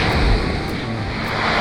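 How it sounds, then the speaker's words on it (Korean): Ocean surf washing onto the shore at Gili Trawangan, heard as a steady, fairly loud broadband rush with a low rumbling swell near the start and no voices. "한 번씩 파도가"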